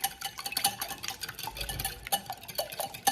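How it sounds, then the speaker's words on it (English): Eggplant being mixed with egg, salt and pepper in a bowl, a quick, continuous wet stirring with light clicks of utensil against the dish, close and fairly quiet. "We're going to add some salt, pepper, and we're going to mix it."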